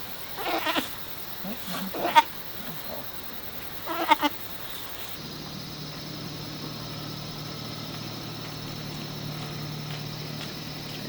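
A goat being led away to be sold gives several short, shrill bleats close by. Then it falls quiet, leaving only a low, steady engine hum.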